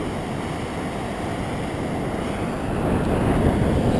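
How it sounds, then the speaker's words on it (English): Floodwater pours over an open floodway gate where the floodway meets the Red River after heavy snow and rain, a dense, constant roar that swells louder toward the end, with wind buffeting the microphone. "Like, look at the water flowing here."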